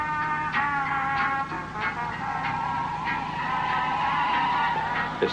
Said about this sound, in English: It's the car.